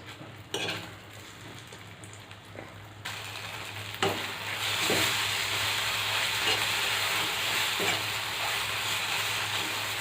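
Beaten eggs for an omelette fry in a kadai, a steady sizzle that swells after a few seconds and holds loud and continuous, with a few soft clicks of a spoon against the pan.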